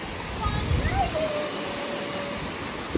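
A waterfall spills down from a temple pool at Bhimashankar as a broad, steady rush of water that runs throughout, with someone talking over it.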